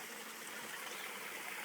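A small woodland waterfall trickles and splashes after a rain shower, a steady soft rushing wash with no pauses, heard alone at moderate distance.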